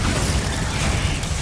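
Bombarda explosion spell cast in Hogwarts Legacy, a dense, loud rumbling blast with crackling debris that fills the short moment without letting up.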